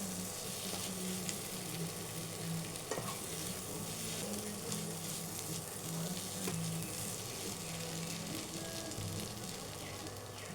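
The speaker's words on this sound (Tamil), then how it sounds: "எல்லாத்தையும் சேர்த்து நல்லா மிக்ஸ் பண்ணிடுங்க. ஒரு 3 நிமிஷம் நல்லா வதக்கிடலாம்." Bread roll filling of potato and other ingredients sautéing in a pan, a continuous soft sizzle beneath repeated stirring and scraping, close and steady throughout, with no one speaking.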